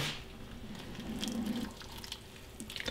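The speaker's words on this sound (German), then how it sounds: "Als nächstes kommt eigentlich nur noch kochendes Wasser drüber." Boiling water pours over food in a bowl, a soft, steady splashing stream that runs quietly for a few seconds with faint dribbles near the end.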